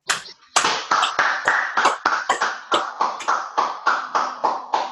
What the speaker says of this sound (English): I want everybody to give Miss Hill a round of applause.